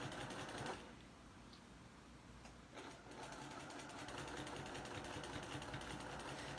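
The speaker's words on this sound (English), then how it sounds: "I'm just going to stitch, or top stitch it right there." A domestic sewing machine top stitches along the edge of a fabric snap bag with batting inside, running in a steady close whirring burst that briefly slows, then continues evenly at a moderate pace.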